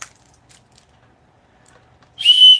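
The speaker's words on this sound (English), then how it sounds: "It also came with a whistle, like a bear whistle" After near silence with a few faint clicks, a single short, shrill whistle blast sounds loud and close near the end.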